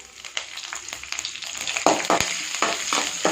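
Crackling, popping sizzle of mustard seeds, fenugreek, dried red chillies and curry leaves dropped into hot sesame oil, with sharp bursts of spattering over a steady frying hiss, close by.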